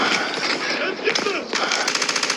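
Loud, rapid bursts of gunfire from a video game keep coming in quick repeated volleys, with a voice partly heard over the shots.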